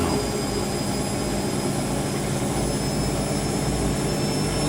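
Siemens WH54080 washing machine on a 90°C cotton cycle, spinning with a steady, loud, continuous roaring whir that stays even throughout, with no voices.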